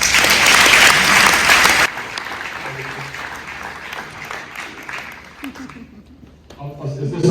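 Loud, dense audience applause at a retirement event opens the moment, cutting off sharply after about two seconds and giving way to softer room noise, scattered claps and murmuring voices.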